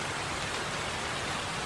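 Steady, dense hiss of rain falls in the survival video game Stormy Islands, a loud even wash of noise with no pauses and no voices.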